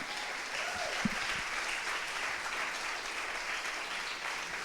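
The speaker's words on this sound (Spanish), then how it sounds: "Dale un aplauso fuerte a Jesucristo." Loud applause from a church congregation: a continuous, even roar of many hands clapping at once, sustained throughout, with a brief low voice sound near the start.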